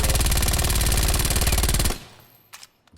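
A continuous, loud burst of rapid automatic fire from a submachine gun in a video game, about two seconds of tightly spaced shots ending abruptly, followed by a few faint clicks and quiet mechanical sounds.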